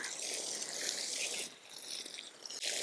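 Water poured onto garden soil to pre-water planting rows for carrot seeds, a steady hissing splash that dips briefly and then continues, close and fairly quiet.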